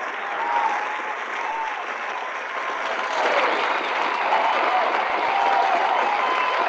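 Studio audience applauding loudly and steadily with some cheering, a dense unbroken wash of clapping lasting the whole stretch.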